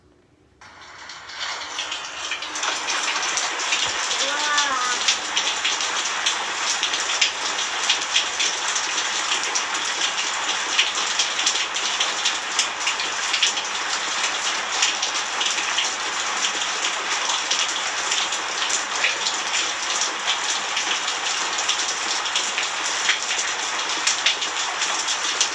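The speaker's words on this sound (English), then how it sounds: "30 seconds of the sound of rain." Steady rain falls for about twenty-five seconds, rising quickly from near-silence into a dense, even hiss of drops that stays constant with no voices.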